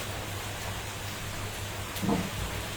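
During a Kalbaishakhi storm in Dhaka, rain falls with a faint, even hiss. A soft knock briefly rises over the steady wash near the end.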